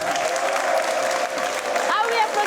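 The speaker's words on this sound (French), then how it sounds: "Ah oui, applaudissez, applaudissez." Applause from an audience at a French-language show, a steady broad clapping wash that holds throughout, with a voice cutting in near the end.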